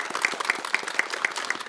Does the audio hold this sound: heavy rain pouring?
no